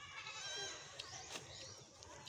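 Goat bleating in a farmyard, several wavering cries close by over a noisy background, with people talking faintly nearby.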